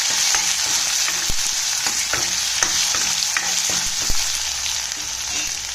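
Tomato sautés in a pan, a steady close sizzle broken by regular sharp spatula scrapes and taps, with no one speaking.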